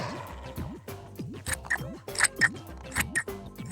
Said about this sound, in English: keep your card folded and cut out your shapes